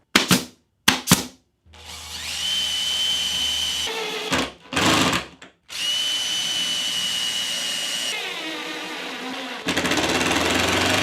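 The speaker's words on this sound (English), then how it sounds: "I'm sanding the top of the T to make it nice and flush and clean it up." A power sander works the top of a glued and pinned wooden fence T, running in long steady bursts with short pauses and quick starts and stops, close and loud with no talking.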